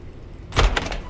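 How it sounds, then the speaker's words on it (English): A door swings shut and its lock clicks in the White Day: A Labyrinth Named School video game, a sudden close thud with a brief rattling latch sound after a quiet moment. "And she locked the door."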